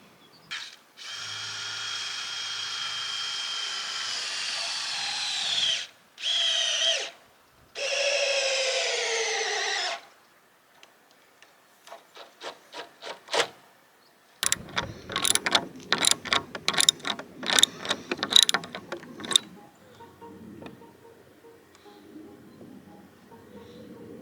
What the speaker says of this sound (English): Now we're just going to go up and screw them all in.